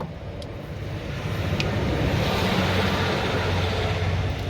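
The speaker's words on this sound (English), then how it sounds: "Yeah, that's our train set in the back going." Model train set running in the background of a garage while a car's heater pipes are worked on, a continuous broad rumbling whir that holds steady and close.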